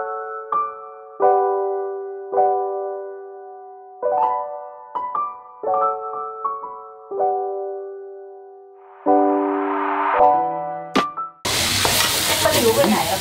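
Food is stir-fried in a bare iron wok: a series of ringing metallic scrapes and clangs comes in short bursts, then a loud burst of sizzling at the end.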